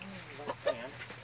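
Chickens and a rooster around a bamboo coop give a few short clucks close by, with soft voices murmuring between them over a quiet background.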